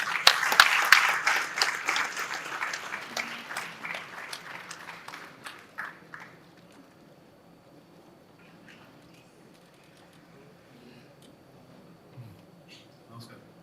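An audience at a film trailer launch stage event claps to welcome Mammootty. The applause is loud and dense at first, fades over about six seconds and dies out, leaving quiet murmuring and a few faint voices.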